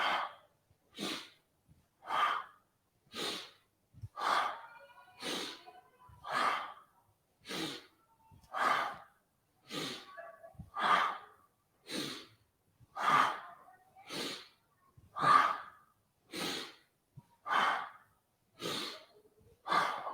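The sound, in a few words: powerful breathing during yoga exercise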